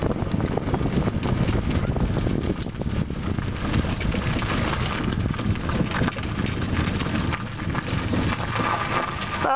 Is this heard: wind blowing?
yes